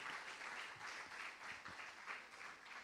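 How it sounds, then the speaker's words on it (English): An audience at a business event applauds to welcome a moderator, a steady, fairly faint wash of many hands clapping that pulses gently and never breaks off. "let's put our hands together for him."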